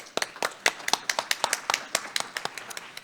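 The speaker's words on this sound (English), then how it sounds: "if we could give them a round of applause." An audience claps after a set of research talks on reactive transport processes in Earth systems. The claps are sparse and distinct, coming from a small crowd in an indoor room, at a steady pace for about three seconds with no talking.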